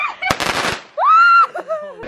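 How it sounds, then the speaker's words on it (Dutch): A small firework is set off outdoors at a New Year's celebration, giving a short crackling burst followed by a rising whistle, with voices heard around it. "heeft haar eerste vuurwerkje van het jaar afgestoken"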